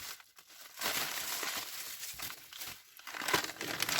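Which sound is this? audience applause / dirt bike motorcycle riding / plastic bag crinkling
plastic bag crinkling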